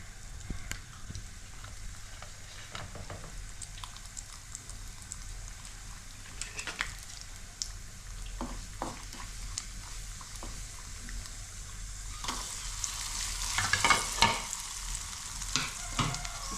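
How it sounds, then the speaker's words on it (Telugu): Cashew nuts frying in a pan, a quiet steady sizzle with scraping stirs and clinks, the frying growing louder and brighter toward the end. "ముందు జీడిపప్పు వేసుకుందాం ఇది వేగాలి కదా"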